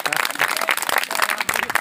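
A group of schoolchildren claps together at a motivational talk, a dense burst of rapid, overlapping hand claps at close range that carries on without pause.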